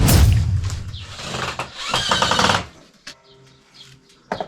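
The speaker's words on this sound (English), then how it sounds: "Doing some screwing. I'm making a stirring stick for our slaking barrel." A power tool drives screws into wood while a stirring stick for a lime slaking barrel is built, giving loud rattling bursts of screwing followed by quieter clicks and handling noises.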